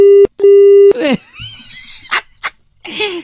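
Telephone hang-up beeps sound as a call is cut off, steady tones broken into pulses, followed by brief muffled voices and noises.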